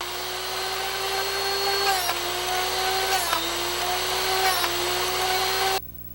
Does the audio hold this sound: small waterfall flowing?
no